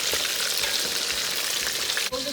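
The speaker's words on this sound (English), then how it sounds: "The chickens are done frying." Steady crackling sizzle of chicken frying in hot oil, close and continuous, with a brief break near the end.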